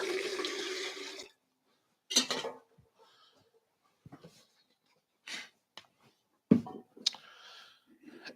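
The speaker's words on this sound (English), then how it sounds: "Put the old water back." Water poured back into a container while brewing coffee, a short burst of splashing pour, then scattered clinks and small knocks of vessels with brief quiet gaps.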